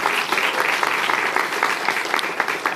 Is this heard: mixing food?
no